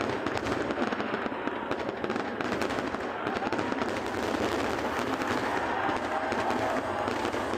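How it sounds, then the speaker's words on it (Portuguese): Fireworks display over Icaraí in Niterói, a dense, continuous barrage of bursts and crackling that stays loud and steady with no pauses, with faint crowd voices mixed in underneath. "efeitos da queima de fogos aqui em Caraí"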